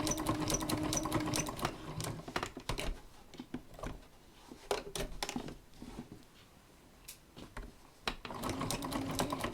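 A sewing machine stitching quilt sashing, its fast mechanical whir running at the start and end with a quieter stretch of clicks and handling noises in between, close up and alone.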